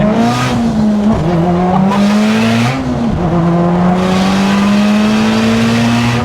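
A loud turbocharged Audi S3 8P engine, over 600 bhp, screams at high revs for the whole stretch, pitch climbing and briefly dropping between gear shifts, with no voices.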